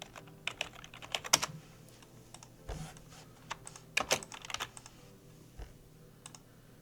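Keystrokes tapped on a computer keyboard while working in an Excel spreadsheet, coming as scattered clicks and short quick bursts at close range, with no talking.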